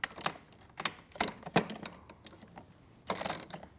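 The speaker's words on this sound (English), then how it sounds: "I'm just going to quickly switch so that I have more leverage by using the short end of the Allen wrench." An Allen wrench tightening a bolt on a metal-post studio Pilates reformer during assembly: a close series of small metallic clicks and ratchety scrapes in short irregular bursts, with a longer grinding turn near the end.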